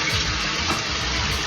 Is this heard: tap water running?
yes